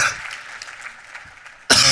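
A single sharp cough bursts out loudly near the end, following a stretch of quiet room murmur at a conference session.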